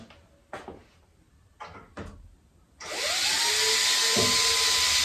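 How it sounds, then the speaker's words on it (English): Cordless drill driving screws back into a door's hinges, giving a loud steady whine of several seconds that follows a few short knocks and clicks of handling. "just put the other screws back in and you should be good to go."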